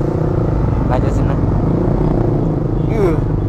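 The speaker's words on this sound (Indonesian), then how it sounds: "Bener-bener ngebas banget nih suara knalpotnya, udah kayak suara RC kan." A motorcycle fitted with a red Yoshimura USA exhaust rumbles loudly and steadily while riding in Central Jakarta, a deep continuous drone with slight revving swells and a voice briefly over it.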